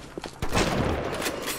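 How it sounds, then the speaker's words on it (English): A shotgun blast in BioShock, one loud sharp shot with a booming tail after a faint earlier pop. "I like my shotgun a lot."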